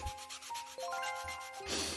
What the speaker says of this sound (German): Das muss hier erstmal abgeschliffen werden.